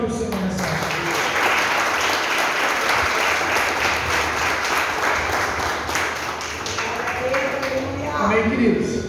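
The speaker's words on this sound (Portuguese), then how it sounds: "Pode aplaudir o Senhor nessa noite." A church congregation at an evening family worship service breaks into loud, sustained applause, a thick wash of clapping that holds steady for several seconds, with a voice briefly heard at the start and again near the end.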